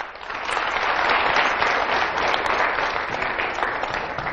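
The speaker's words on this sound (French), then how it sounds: "Je vous demande d'applaudir pour les invités sur ce plateau." A television studio audience applauds the guests on set, a dense, steady wash of clapping that rises within the first half second and continues evenly throughout.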